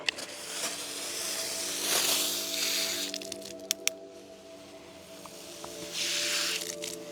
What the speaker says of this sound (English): All right, now it's time to water them in.